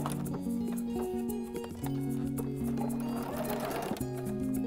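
A sewing machine runs a short backward stitch along the edge of fabric, a steady close mechanical whirr with shifting motor tones and a brief pause in the middle, heard without talk.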